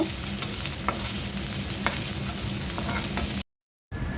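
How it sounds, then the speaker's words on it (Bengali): Bitter gourd and onion frying in a pan, a continuous close sizzle with stirring scrapes and occasional spatter pops, cutting to brief silence near the end before the hiss resumes, no voices. "এখন করলা ভাজিটা বসিয়ে দিচ্ছি। পেঁয়াজটা হালকা ভেজে নেব।"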